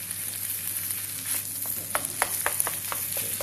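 Rump steak frying in a pan with butter, a continuous close sizzle with a few sharp spitting pops near the end, no talking.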